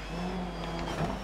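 Rally car drifting in the racing game DiRT 3, a steady engine drone with a slight rising rev through the short slide, loud and close with no voices.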